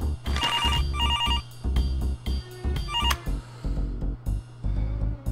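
A telephone rings in the Demetrios adventure game, with bursts of warbling electronic ringing in repeated pulses over a thumping low music bed, with no talk.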